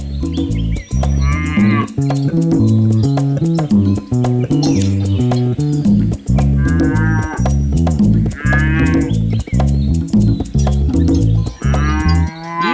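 A cartoon cow in a children's animated story moos again and again, loud and close, with steady musical tones running underneath.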